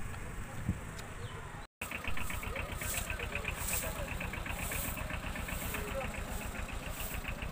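Tractor engine idling with a fast, even knocking chug, close and steady after a brief dropout, with a high buzzing drone over it.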